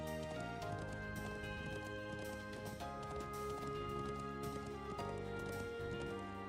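Hooves clip-clop steadily as a horse is ridden in the video game Trails of Cold Steel IV, fairly quiet beneath layered game music, no talking.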